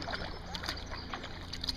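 A skin-on-frame kayak is paddled on calm water, with soft splashing and dripping as the blades dip, quiet and close against a faint background.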